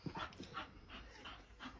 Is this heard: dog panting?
yes